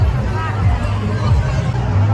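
A dense crowd hubbub fills a Ramai Jayanti procession in Pachora near an Ambedkar statue, a close, steady babble of many voices with music thumping faintly underneath.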